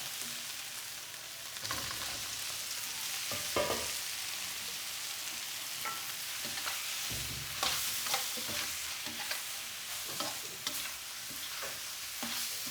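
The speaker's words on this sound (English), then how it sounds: "So I need to cook the meat part well till the aroma comes out." Meat stir-fries in a wok in a Calcutta home kitchen, a continuous loud sizzle with repeated scraping and tossing strokes, no talking.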